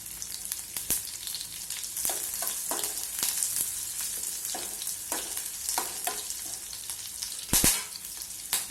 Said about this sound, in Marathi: आता तेलामध्ये मी जिरं टाकणार आहे, लसूण टाकणार आहे, कढीपत्ता टाकायचा आहे.